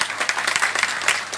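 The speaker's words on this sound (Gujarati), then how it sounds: "જોરદાર તાળીઓના નાદને ગુંજારિત કરીને હોલને આપણે ભરી લઈએ" Applause from an audience filling a hall at a farewell honour ceremony, dense and steady clapping throughout with no speech over it.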